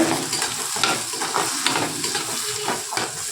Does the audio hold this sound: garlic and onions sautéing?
yes